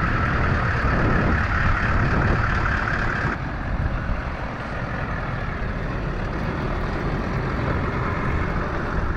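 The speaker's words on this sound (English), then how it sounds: "This is by far the biggest boat we've ever reversed down." Heavy vehicle reversing a large boat down a ramp, a continuous loud engine rumble with broadband road and wind noise that eases slightly midway, no voices.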